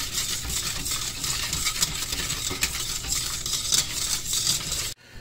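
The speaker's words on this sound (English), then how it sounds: "Now we're just gonna mix it." Spoon or whisk stirring warm white sugar cake batter in a bowl, with continuous close scraping and sloshing in an uneven rhythm that stops abruptly at the end.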